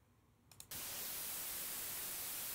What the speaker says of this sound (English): I've got a stereo. white noise that I made.